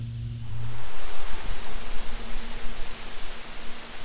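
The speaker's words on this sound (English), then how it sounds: "Little waterfall. Look at it just pouring out of the mountain there." A small waterfall pouring out of the mountainside near Diablo Lake in North Cascades National Park, heard close as a loud, steady broadband rush of falling water with no voices.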